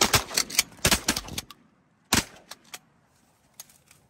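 Duck hunters fire shotguns at teal on public land during the Oklahoma opener. A rapid volley of sharp, close blasts comes first, then a single loud shot and a few fainter pops follow.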